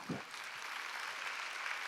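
Congregation clapping during a Korean church Wednesday worship service, a steady broadband wash of many hands lasting throughout, moderately faint and continuous with a brief voice at the start.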